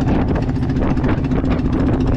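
A boat engine runs steadily at sea, a loud, continuous droning hum with a rough, vibrating low rumble that stays even throughout, with no voices.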